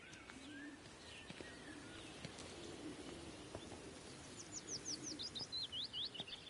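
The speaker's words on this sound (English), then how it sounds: "So they probably couldn't help with the birds." Birds chirping in the game Everybody's Gone to the Rapture: faint, distant outdoor ambience with scattered small sounds, then a run of quick, repeated high chirps and tweets near the end.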